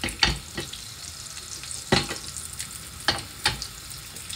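Butter and oil sizzle steadily in a hot pan as the butter melts, with a few louder crackles and stirring clicks over the continuous frying hiss.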